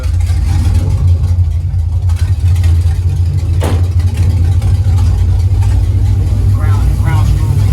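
A Camaro SS with a junkyard engine runs at a steady, loud, close idle just after its first start, a continuous low rumble with a brief sharp knock partway through and voices talking over it.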